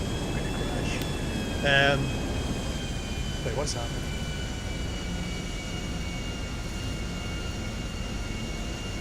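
A constant airplane engine drone from the GTA V video game runs loud and steady for the whole stretch, with a brief whistle-like tone on top and someone talking over it.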